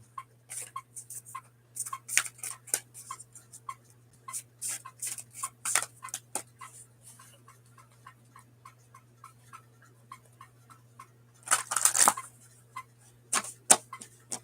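Tarot cards riffle and snap in quick bursts of crisp ticking, with a louder flurry near the end, close up over a steady low hum.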